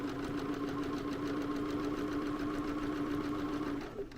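A Bernina sewing machine free-motion quilting with its stitch regulator, a fast steady mechanical chatter over a constant motor hum, close and quiet, slowing and stopping near the end.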